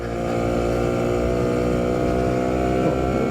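A 1960 BSA Bantam D7 motorcycle being ridden in second gear, its small two-stroke engine droning loud and steady with a constant buzzing hum throughout, close up and with no voices.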